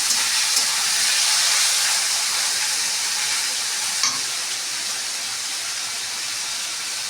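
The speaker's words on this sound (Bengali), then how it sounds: "আমি আলুটাকে ভালো করে ভেজে নেব লাল লাল করে ভেজে তুলে নেবো" Potato pieces seasoned with turmeric and salt fry in a pan for a vegetarian chowmein, making a loud, continuous close-up sizzle and hiss with one brief clatter midway.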